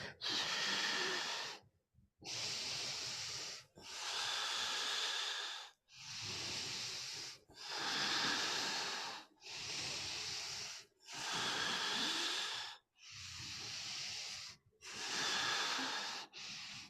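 During a yoga class, forceful rhythmic breathing repeats as about ten strong hissing breaths, each lasting over a second and separated by short quiet gaps, close and loud with no talk.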